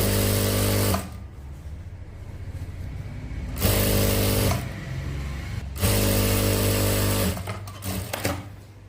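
A sewing machine stitches a folded shirt seam in three loud, steady whirring runs, each separated by short pauses.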